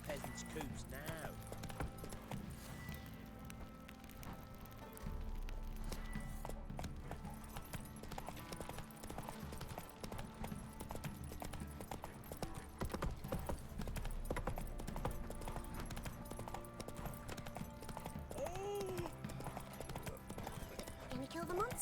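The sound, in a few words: horse Roach galloping in a video game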